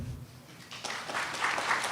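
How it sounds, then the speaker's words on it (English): Scattered applause from the audience at a special town meeting, rising in the second half and continuing steadily, moderately distant in a hall. "Folks, please hold off on the applause."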